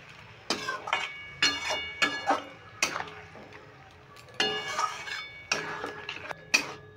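Sharp clinks and clatters of a bowl and utensils against a pan ring out in irregular bursts while water goes into a cauliflower roast, close and fairly quiet, with faint sizzling beneath.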